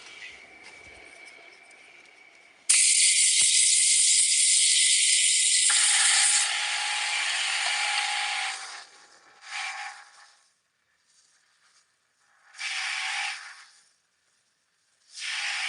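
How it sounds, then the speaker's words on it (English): Compressed air blasts from a nozzle in a woodworking shop making a cutting board: a long loud hiss that steps down partway, then several shorter bursts with brief gaps. "Wonder what would happen if I take my compressed air here."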